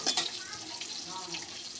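Potato pieces dropped into hot oil, a loud hiss bursting up at the start and settling into a steady, close sizzle of frying.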